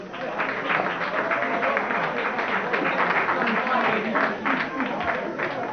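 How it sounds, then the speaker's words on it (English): Audience applause at a pub quiz in a tavern, steady dense clapping from a crowd filling the whole stretch, with voices mixed in beneath. "Give them a great big round of applause"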